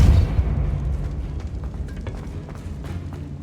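A Depulso spell cast in the Hogwarts Legacy video game: a heavy boom at the start, decaying into a low rumble with scattered faint clicks and thuds of game effects.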